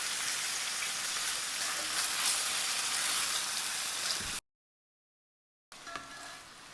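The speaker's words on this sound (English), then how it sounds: "searing this till it gets that brown in color is all that's required before creating that robust gravy" Tenderloin beef fillet searing in a hot pan for rendang curry, a steady dense sizzle and crackle, close and even, broken by a short silent gap before sizzling resumes.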